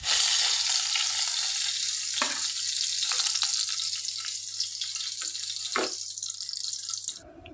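Continuous close sizzling of koi fish in oil in a wok, a bright steady crackle lasting throughout with occasional soft utensil taps, ending abruptly.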